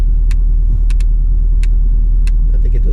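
Mercedes C63 W204 with its engine idling in a low, steady rumble, traction control off and race start being set up, with a few sharp clicks breaking over the constant close drone.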